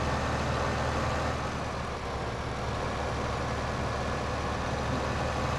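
A tractor engine heard from inside the cab while driving in Farming Simulator, giving a steady, loud, continuous low drone with no pauses and no talk over it.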